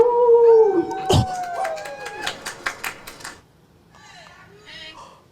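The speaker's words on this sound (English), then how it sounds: "A coyote." A coyote gives a loud, near howl that slides and wavers, breaks into a run of sharp yips, then trails off into faint, quieter calls.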